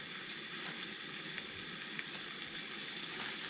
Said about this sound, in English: Way too much fish in this frying pan.